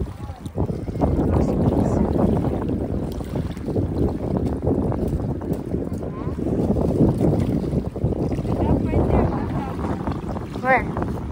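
Steady wind and lapping waves on a lake, a constant broadband rush filling the whole stretch, with a brief bird chirp near the end.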